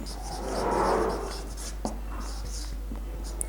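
A marker scratches across a board as statements are written, with a broad rubbing stroke early and then lighter short strokes and taps, close by, with faint talking underneath.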